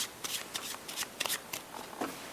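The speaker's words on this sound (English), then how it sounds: "Take the cards that are left, shuffle those." A deck of playing cards shuffled by hand at a card trick, giving a series of crisp riffling bursts in quick, uneven succession, fairly close and with no talk.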